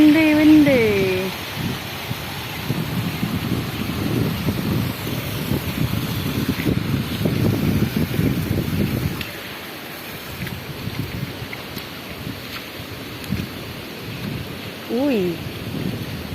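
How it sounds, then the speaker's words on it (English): Strong wind and heavy rain from Typhoon Paeng batter a farm in the Philippines, a steady roaring wash that eases slightly midway, with a voice speaking over it at times. "It's very windy. Very windy."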